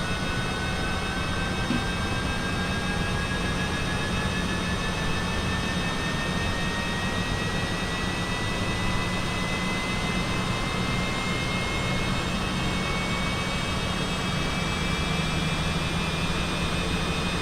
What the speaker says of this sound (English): sounds like we have a good start on engine 2